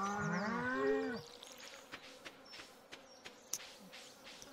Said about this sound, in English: Cows are very excited today.